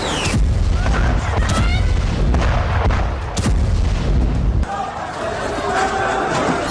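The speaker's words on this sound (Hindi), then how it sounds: "तभी जबरदस्त बमबारी की गई।" Heavy bombing in news footage: loud deep booms and blasts with rumbling low thuds in quick succession, followed by quieter chaotic background with distant crowd noise.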